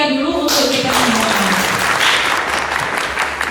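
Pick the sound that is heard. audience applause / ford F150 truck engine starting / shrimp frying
audience applause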